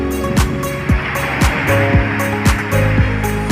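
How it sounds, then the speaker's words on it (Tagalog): Large monsoon sea waves surging in Manila Bay, with flooding water, roar as a steady loud wash, struck by repeated heavy thuds about every half second, with no voices. "Ito na yung biliwa ng alon guys."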